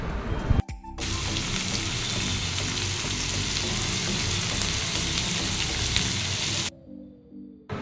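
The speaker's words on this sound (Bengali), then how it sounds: "মাংসের আলুটা ভেজে নিলাম" Potatoes for a meat curry sizzle and crackle steadily in a hot pan, a loud dense frying hiss that starts abruptly after a brief bump and cuts off near the end, with no talk.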